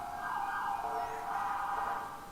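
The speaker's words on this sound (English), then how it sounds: "But I hear sirens, unless it's just audio." A steady wailing siren drifts in the distance in GTA World, a sustained tonal drone running for a couple of seconds with faint background ambience.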